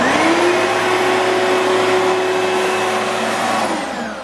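An Oreck Magnesium LW100 upright vacuum cleaner runs with a loud, steady motor whine and airy roar close by, holding level before easing off slightly at the end.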